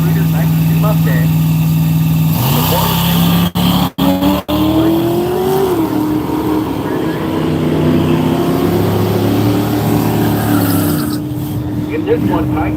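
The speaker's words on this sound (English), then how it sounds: "Here's John Ross, Vancouver, Washington, the all-white 5-liter 92 Mustang" An all-white 1992 Ford Mustang with a 5-liter V8 runs loud and steady at a drag strip, its engine tone rising and shifting through the pass, with an announcer's voice partly over it.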